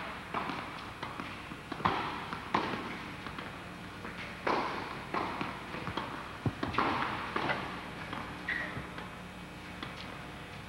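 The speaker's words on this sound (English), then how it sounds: "Pro here feeds one approach shot," Tennis approach shots and volleys struck on a court during a two-line drill, the pro feeding balls; a series of sharp ball impacts and footfalls repeat irregularly at moderate distance with no talk.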